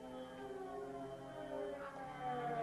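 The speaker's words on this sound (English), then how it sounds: "There's the ambulance." A siren wails faintly in the distance, its rising and falling tones steady throughout with no other sounds.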